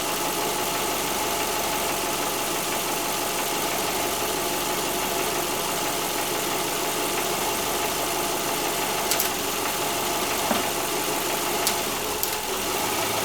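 A 2009 Subaru Forester engine idles steadily while its variable valve timing solenoid is switched on by hand, giving a constant dense mechanical drone with a few faint clicks near the end.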